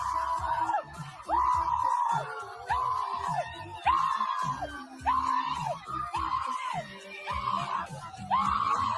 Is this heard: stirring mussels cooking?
no